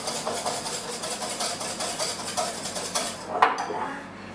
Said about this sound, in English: Whisk it really nicely.